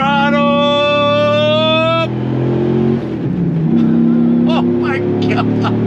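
Dodge Ram SRT-10 Viper truck revving hard in second gear on throttle, a loud, close engine roar with a high whining tone that drops away after about two seconds, followed by rumbling engine noise and short chirps.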